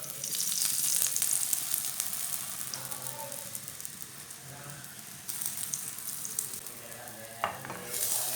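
Egg-dipped flatbread sizzles in oil in a pan, a steady bright frying hiss throughout with a few soft clinks and scrapes near the end, no voices.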